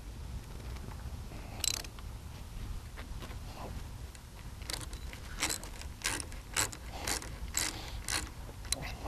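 Ratcheting, clicking mechanical fitting being tightened during a Jabiru 3300 engine installation on a Rans S19, with a series of sharp ticks and short rasps growing denser toward the end, close and moderately loud.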